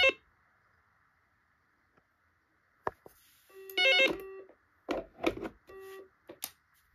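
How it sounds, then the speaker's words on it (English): A Dex CT230C corded telephone with speakerphone and caller ID rings with short electronic trill bursts in a broken pattern, near and clear, with quiet pauses between them. "let's just ring it up one more time because the ringtone's really cool"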